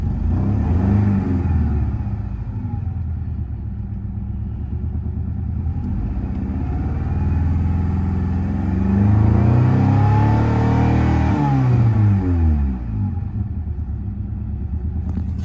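An inexpensive Honda Accord engine, recently repaired after running poppy with a struggling cylinder, rumbles loudly nearby at a steady idle, with a brief swell of revs midway before settling back, and no one speaking.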